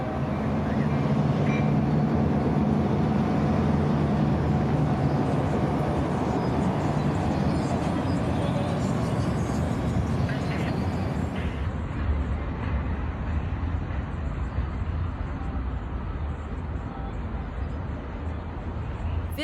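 A 1973 ex-L&N GP38-2 diesel locomotive crawls into Yeoman Yard in Tampa, Florida, hauling a long freight of boxcars, hoppers and autoracks. It makes a loud, steady, broadband rumble that eases off slightly toward the end.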